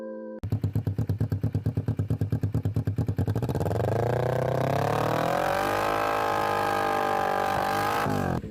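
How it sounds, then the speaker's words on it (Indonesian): A 250 cc twin-cylinder motorcycle engine with a 180-degree crank idles with an uneven, loping beat, then revs up into a loud, steady high-rpm roar held close by. "Suaranya sudah sering kita dengar pada motor 250 cc di Indonesia."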